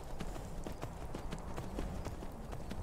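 Horse hooves clip-clopping while riding in the video game Skyrim VR, a steady rapid rhythm of hoofbeats up a mountain, close and clear over a low rumbling background, with no talking.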